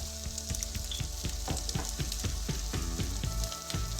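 Ground turmeric, cumin and red chilli powder sizzling in hot oil for a Bengali rohu fish curry, a steady close crackling fry with repeated stirring scrapes running throughout.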